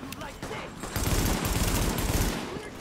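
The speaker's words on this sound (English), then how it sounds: "I'll get my shotgun out." Gunfire from The Division video game, a rapid burst of loud shots lasting about a second and a half amid background game noise, with a voice heard briefly.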